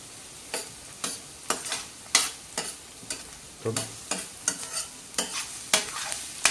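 Onions fry in a pan over medium gas while a spoon scrapes and stirs them in regular strokes about twice a second, each stroke a sharp, close rasp over a faint steady sizzle.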